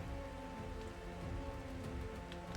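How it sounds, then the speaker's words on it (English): Rain falls steadily in the game Minecraft, an even, dense patter of drops on surfaces that continues without a break. "Why does it always rain on me?"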